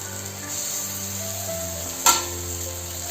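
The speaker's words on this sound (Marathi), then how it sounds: "कांदा टोमॅटो छान फ्राय करून घेतलेले आहे।" Onion and tomato frying in a pan for mutton keema, a steady close sizzle throughout with a brief sharp clink of a utensil near the middle.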